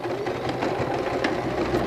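A sewing machine tacks a seam with a rapid, even mechanical whir and stitching chatter, close and moderately quiet, with no voices.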